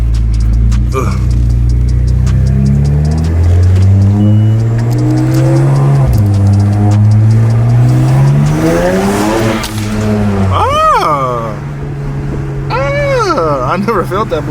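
Infiniti G35 sedan fitted with a test pipe exhaust, revving and accelerating hard on the street: a loud, raspy engine climbs and falls in pitch continuously, close up from inside the car, with voices talking over it.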